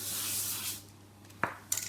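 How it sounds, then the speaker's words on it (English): Gold luster spray is hissed onto cake decorations in a short burst that fades out, with light handling clicks near the end. "Gold Luster Spray that I'm using. I'm just spraying this now"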